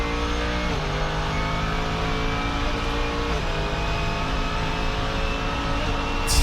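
Audi R8 GT3 and Mercedes GT3 race cars lapping the Nürburgring, a loud continuous engine howl with pitch shifting through gear changes, a sustained near roar with no voices.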